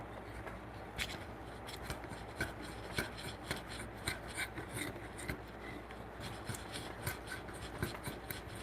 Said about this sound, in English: now let's take the framing chisel and go over this real quick.